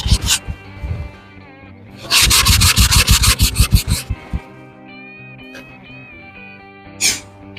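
Hand rubbing through wallpaper and PVA glue on a campervan interior wall, a loud rapid scrubbing burst in the middle, with quieter scraping and brief rubs before and after, no talking.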